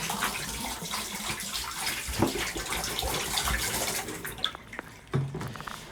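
A tap runs water during dishwashing, a steady hiss and splash close by with a few clinks and bumps near the end.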